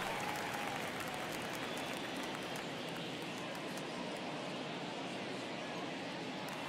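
Baseball stadium crowd at an Orioles–Tigers game in the ninth inning of a one-run game, a dense, steady roar of cheering and clapping filling the whole stretch without letup.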